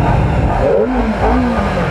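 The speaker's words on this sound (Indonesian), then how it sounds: "ini knalpotnya belum racing guys, jadi knalpotnya itu masih standar bawaan. Jadi menurut gua masih enak, suaranya halus" A motorcycle engine with its stock factory exhaust revs during a test ride, giving a steady, smooth, fairly loud drone with rising and falling pitch sweeps. There are no voices.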